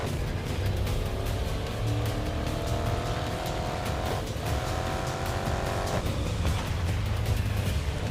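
Race cars in the GRID Legends racing game roar around the track together, engines revving and rising through gears with brief tire squeal, a continuous dense pack of car sound throughout.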